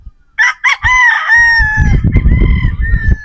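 A Sweater Boston gamefowl rooster crows loudly and close, a drawn-out cock-a-doodle-doo preceded by a couple of short calls, with clucking and scuffling from other fowl underneath.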